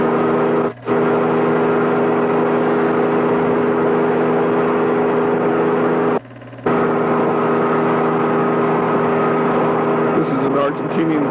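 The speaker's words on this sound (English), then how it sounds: "Tommaso Simone in a boat called No Problems, an Italian boat built in Italy, made out of Kevlar, in Class 2, a single-engine work cruiser rig" A single-engine Italian-built Kevlar Class 2 racing powerboat, a work cruiser rig at Mar del Plata in 1978, drones steadily with a loud, even engine hum, broken by two brief dropouts, as a commentator talks over it.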